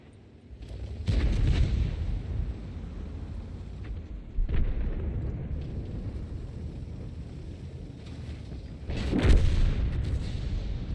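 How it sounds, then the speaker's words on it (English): Heavy artillery blasts from the video game World of Tanks boom out in three deep, rumbling impacts spread across the span, each trailing off into a low, lingering roar. "Is that artillery that hit him?"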